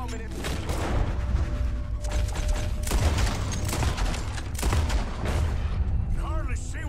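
Gunfire in the Red Dead Redemption 2 video game, heard as a dense run of sharp shots and booms close by, some in rapid bursts, over a loud, busy background with voices mixed in.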